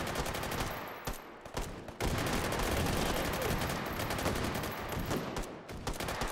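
Dense gunfire in the VR shooter Hot Dogs, Horseshoes & Hand Grenades, with loud overlapping rapid shots and bursts running almost without a break and a couple of short lulls.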